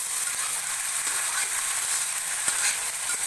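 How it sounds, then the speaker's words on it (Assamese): Rajma fries with spices in a pan, a continuous close hiss of sizzling oil with faint scraping from stirring, alone without speech. "এতিয়া মই এইখিনি ভাজিব লাগিব ভালকৈ।"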